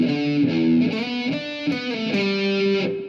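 Heavily distorted electric guitar plays one bar of a tune, a short run of sustained, overdriven notes with changing pitch, close and loud with no voices.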